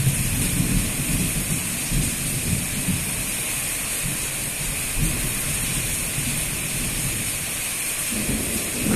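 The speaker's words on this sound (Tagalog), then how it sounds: "Lakas ng ulan dito," Heavy rain pouring down steadily at night with low rumbling thunder, a dense constant hiss of drops hitting surfaces close by and deep rolls of thunder beneath it.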